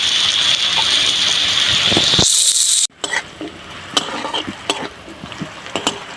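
Bitter gourd and jackfruit seeds fry in a pan with a loud, dense sizzle that cuts off abruptly, followed by quieter crackling and scattered clinks of stirring, with no talk.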